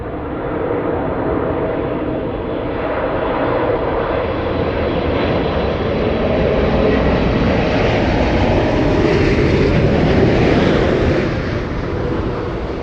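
An airliner landing at LAX gives a loud, sustained jet roar that slowly swells and fades, with no voices.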